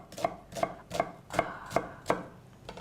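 A knife chops gnocchi dough on a board in six or seven evenly spaced, crisp taps, close and clear, with no talking over them.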